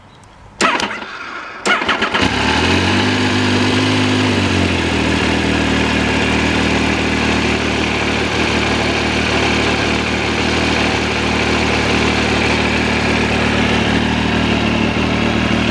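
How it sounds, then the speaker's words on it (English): An Italian motorcycle engine cranks briefly, catches and fires up, then settles into a steady, raspy idle close by, loud and continuous with no talking. "Lovely raspy sound, typically Italian, and in fact sounds not dissimilar to an MV Agusta actually."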